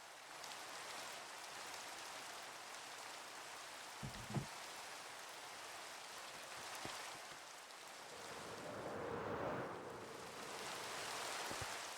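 Rain pours steadily in a video game, falling high above the clouds, with a soft low rumble swelling late and a few faint knocks.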